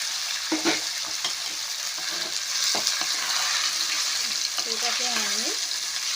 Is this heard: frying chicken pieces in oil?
yes